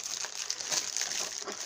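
Plastic bag crinkling while a GAN 356 R cube is unbagged, a close, continuous rustle of soft, irregular crackles with no talk.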